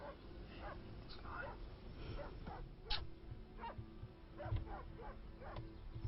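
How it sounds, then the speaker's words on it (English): A dog barks in short, upset yips and whimpering bursts somewhat in the background, repeated through a low rumbling bed of noise and mixed with talking voices. "The dog sounds upset. He's a dog. They like barking."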